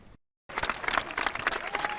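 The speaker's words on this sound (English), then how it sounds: "French MPs applaud their colleague Carlos Bilongo" French MPs applaud in parliament: after a brief hush, a thick, sustained round of clapping from many hands rises and carries on, moderately distant and even.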